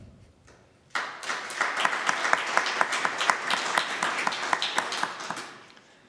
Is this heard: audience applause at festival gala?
yes